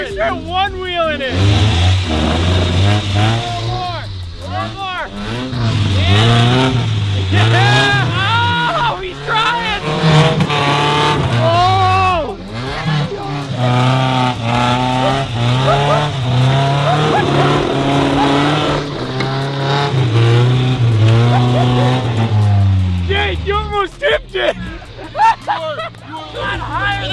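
A mud truck engine revs hard while the truck backs up out of a mud pit, loud and sustained with rising and falling pitch, under excited overlapping voices.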